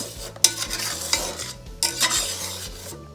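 Scrambled eggs stirred in a hot pan with a utensil, a close scraping, clinking stir repeating in uneven strokes over a steady low sizzle, while music plays in the background.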